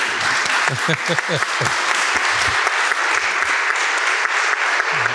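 Audience applause at an Italian book event for Dario Voltolini's novel Invernale, a steady loud wash of clapping lasting several seconds, with a voice talking over the start.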